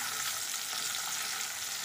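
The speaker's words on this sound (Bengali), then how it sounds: "আলুগুলো দিয়ে ভালো করে নেড়ে দেবো" Potatoes and onion frying in oil in a pan while being stirred, a steady close sizzle with soft scraping, continuous and even throughout.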